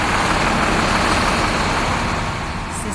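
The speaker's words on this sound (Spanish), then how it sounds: "Se escucha el tráfico, se escuchan los sonidos de la gran ciudad" Loud, dense city traffic in Manhattan rumbles continuously nearby, with engines and passing vehicles blending into a steady roar that never pauses.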